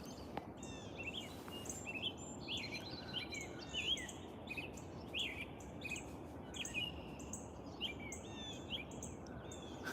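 Birds chirp and call from a thicket of trees outdoors, their light, scattered tweets ringing out over a steady hiss of insects and wind, with cows somewhere nearby.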